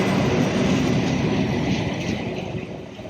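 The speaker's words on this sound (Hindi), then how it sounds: "मुझे सिर्फ 5 मिनट हुए हैं और ये तीसरी ट्रेन में देख रहा हूँ इस ब्रिज को क्रॉस करते हुए." A train crosses a busy railway bridge in Cologne, Germany, a loud steady rumble of wheels and cars rolling past close by, fading slightly toward the end.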